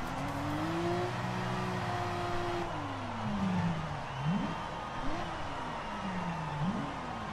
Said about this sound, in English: That revving, that's me.